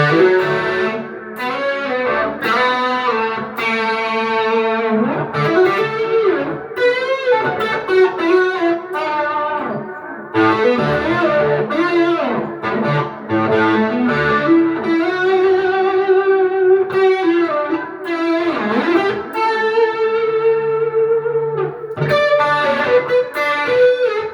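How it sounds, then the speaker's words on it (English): A heavily distorted electric guitar plays chords and sustained notes through an Orange Rocker 32 amplifier, loud and continuous, with brief pauses between phrases. "here's the distortion on it"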